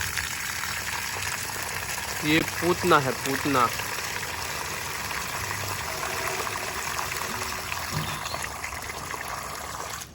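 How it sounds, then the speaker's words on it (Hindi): Water pours and hisses steadily onto garden plants, some of them dry, as they are watered, a constant close spray running the whole time while a person talks briefly over it. "तो गार्डन को तो पानी दे दिया गया और अभी इनको देते हैं।"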